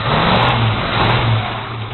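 A Chevrolet El Camino with a new carburetor and Flo Pro dual exhaust mufflers revs loud and close, its deep exhaust note swelling and easing over two seconds with no one talking.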